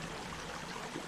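Creek water flowing over rocks, a soft continuous trickling babble that stays even and fairly faint throughout, with no voices.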